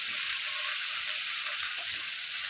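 Pumpkin leaves fry in coconut oil, giving a constant, even hiss and crackle that stays close and steady throughout, with no voices over it.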